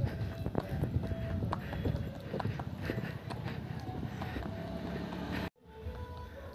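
Horse hooves clip-clop in a steady, rhythmic stream during a ride in Pokhara. The hoofbeats are close and fairly loud over a constant outdoor background, with a brief dip in sound near the end.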